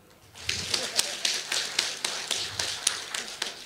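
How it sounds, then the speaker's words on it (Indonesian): A graduation audience claps in a rhythmic, unison pattern, sharp regular bursts about every quarter second that are moderately loud and fill the hall, with some voices underneath. "Mau tepuk tangan lagi?"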